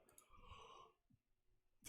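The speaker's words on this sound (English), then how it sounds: "The yawn's a powerful one, right?" A person gives a soft, breathy yawn, quiet and brief, followed by a short pause and a sharp click or thump at the end.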